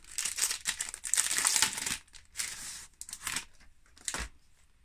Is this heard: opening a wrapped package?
yes